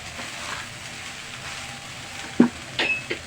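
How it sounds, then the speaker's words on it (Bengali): Eggs and soy sauce frying in a pan for vegetable egg fried rice, a soft steady sizzle close by with a few sharp clinks of a utensil near the end. "ভেজে রাখা ডিমগুলো আমি দিয়ে দিচ্ছি এখন।"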